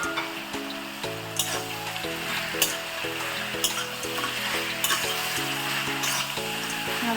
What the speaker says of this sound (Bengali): ভালো করে আরেকটু নাড়াচাড়া করে নিলাম।